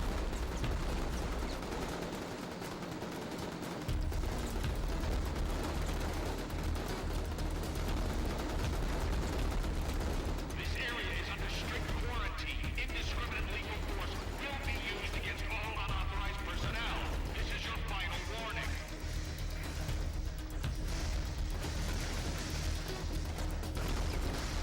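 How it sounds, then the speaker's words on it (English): An MG42 machine gun in a video game rattles out long, dense bursts of rapid fire over a steady low rumble, with a voice talking over parts of the action. "Machine guns. Okay. MG42."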